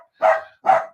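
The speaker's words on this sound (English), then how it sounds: "I can't really fault him for barking at a dog that's wearing a raincoat" Two sharp barks from a dog at a live sports-betting stream, aimed at another dog walking past in a raincoat. They come close and loud, evenly spaced about half a second apart with silence around them.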